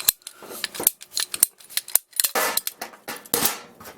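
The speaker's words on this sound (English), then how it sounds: "we can demonstrate how to use the ratcheting PVC cutter" A ratcheting PVC cutter bites through plastic pipe in a rapid series of sharp, close clicks and crunches, with a louder snap as the blade finishes the cut.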